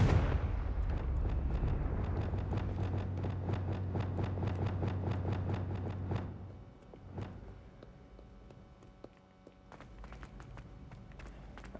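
Repeated Confringo blasting-curse explosions from Hogwarts Legacy, a rapid run of loud sharp bursts for about six seconds that then fades to scattered quieter hits.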